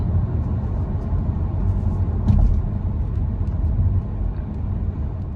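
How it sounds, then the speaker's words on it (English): A 2021 Audi A5 Sportback accelerating in sport mode, its engine held at high revs as a steady, loud low rumble with road noise throughout and no talking. "you put it in sport mode, transmission will hold the revs longer"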